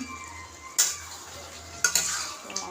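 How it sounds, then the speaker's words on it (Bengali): Meat sizzles in a pan under a steady hiss, broken by a few sharp scraping clinks of a spoon stirring against metal. "তো আর এখানে মাংস বসিয়েছি"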